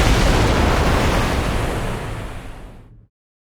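A tsunami sound effect for a wave off the coast of Japan roars as a dense, loud rush of crashing water, steady then fading and cutting off abruptly.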